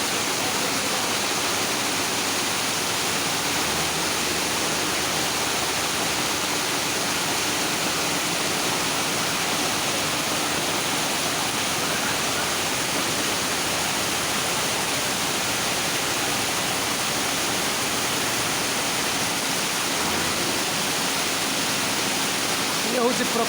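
Floodwater rushes through a Mumbai street after six days of heavy rain, standing about five feet deep, making a loud, unbroken roar of flowing water throughout.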